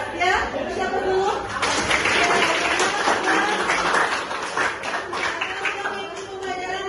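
Students clap together in a high school classroom, a steady round of applause with some chatter and a chuckle mixed in.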